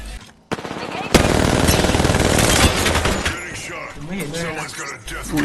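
Rapid bursts of gunfire from the Wingman pistol in Apex Legends, dense and loud throughout, with excited shouting voices mixed over the shots.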